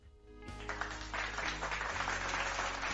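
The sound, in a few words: applause sound effect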